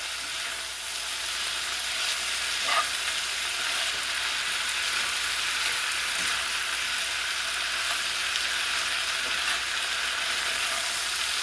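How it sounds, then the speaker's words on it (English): Potatoes with onions and peppers fry in a pan, a constant, close sizzle with faint scraping and clinks as the mix is stirred, no voices present. "So now we're going to go in and stir this all up."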